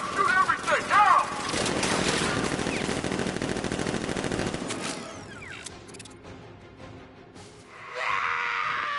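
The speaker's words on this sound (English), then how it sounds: "Activate sentry guns on my mark. 3, 2, 1. Going! Open fire! Shoot everything!" Sentry guns in Batman: Arkham Knight open up in a dense, sustained roar of automatic gunfire lasting several seconds, with sharp bursts at the start and a different tonal noise near the end; shouting voices are mixed in.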